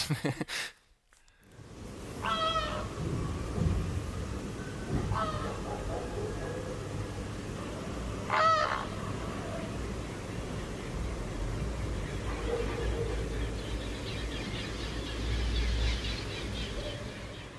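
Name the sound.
migrating birds calling over Barcelona city centre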